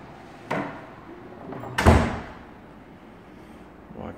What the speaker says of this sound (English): Walk in the front door.